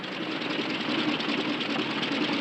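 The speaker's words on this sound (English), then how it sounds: "Engine trouble, sir." An old airplane engine runs roughly and sputters with trouble, a dense, steady buzzing drone that stays loud and close without a break and with no talking.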